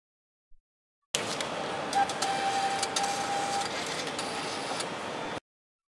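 A Hyosung ATM receipt printer prints a cache slip during maintenance, giving a steady mechanical whir that runs about four seconds after a tiny click, then stops abruptly.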